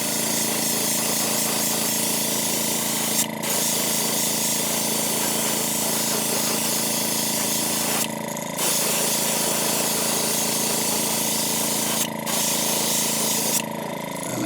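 An airbrush lays down a Createx Opaque White base coat, a loud continuous spray hiss that cuts out in several short pauses between passes, with no talking.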